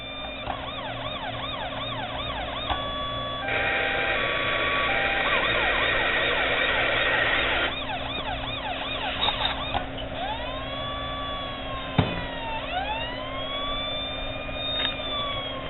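A Federal Signal PA20A Interceptor siren box plays through a speaker in an enclosed room, cycling through rapid yelps, a steady wail, a harsh hi-lo tone and sweeping whoops, loud and close, with a sharp click partway through.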